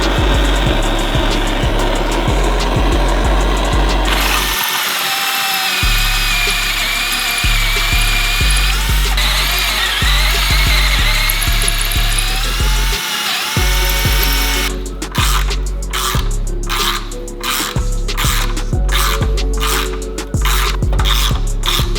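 A power drill works on a Subaru WRX STI turbo part, enlarging bolt holes before studding, heard up close and loud with whirring bursts, brief stops and then a fast rapid ratcheting stretch near the end, no talk.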